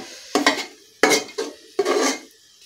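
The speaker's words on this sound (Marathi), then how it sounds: "आता हे सर्व मसाले आहेत ते आपण थोडेसे परतून घ्यायचे आहे 2 ते 3 मिनिट" Garam masala and chili powder being sautéed in a pan for paneer biryani, a spoon scraping and stirring in four short clattering strokes with faint sizzling, close up.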